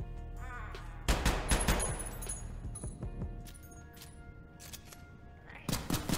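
Automatic weapon fire in the shooter game SULFUR: a loud rapid burst of gunshots followed by scattered single shots and metallic clinks, then a second burst near the end.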